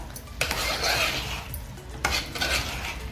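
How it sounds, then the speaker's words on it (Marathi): Broccoli bhaji being mixed with fresh coriander in a pan: a spoon scrapes and clatters against the metal in two bursts over a soft background sizzle, close and fairly clear. "कोथिंबीर टाकूया आता आपण हे सर्व मिक्स करून घेऊया"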